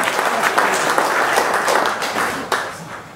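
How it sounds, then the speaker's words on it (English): Audience applause at an Amiga 30 computer event in Amsterdam, a lively burst of crowd clapping filling the room, with a few louder claps and faint voices mixed in. "round of applause for yourself"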